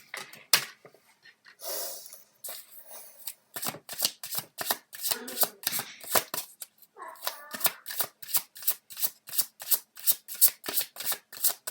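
A deck of tarot-style cards is shuffled by hand during a card reading, first in a few irregular riffles and slides, then in a fast, even run of crisp, close riffling bursts.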